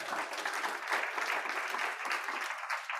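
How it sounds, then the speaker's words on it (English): Conference audience applauding a guest at an Africa CDC health security meeting in Addis Ababa, a steady dense wash of clapping throughout, fairly close and even, with a faint murmur beneath. "They want to applaud you."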